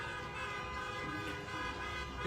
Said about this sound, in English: They're all honking their horns.